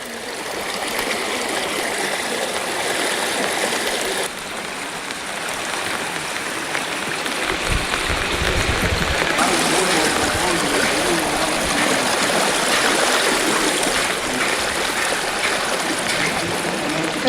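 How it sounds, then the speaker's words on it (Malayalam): Heavy rain in the Mullaperiyar dam catchment pours down in a dense, continuous wash of falling and flowing water, loud and unbroken throughout. "മുല്ലപ്പെരിയാറിന്റെ വൃഷ്ടി പ്രദേശത്ത് അസാധാരണ മഴയാണ്"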